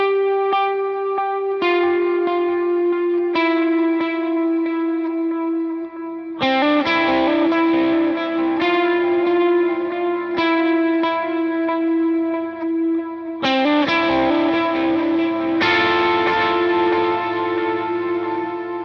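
An electric guitar played through effects, with distortion, chorus and echo, picks the verse part of a song, sustained ringing chords changing every couple of seconds, loud and continuous with no voices.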